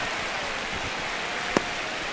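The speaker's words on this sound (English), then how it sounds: "This rain is not letting up." Steady rain pours over a baseball field in the video game MLB The Show 26, a constant even hiss of falling drops with one brief sharp tick partway through and no voices.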